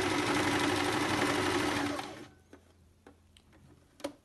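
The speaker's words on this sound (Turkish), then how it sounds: "Tam şekline göre getirip biraz dikmeye başlıyorum." A sewing machine stitches a knit tank top, running steadily and loudly for about two seconds before stopping, followed by a few faint clicks and taps as the fabric is handled.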